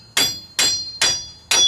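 Four loud, evenly spaced metal hammer strikes on the axle shaft of a 1996 S10 4WD pickup, each a sharp ringing clang about half a second apart, with no talking.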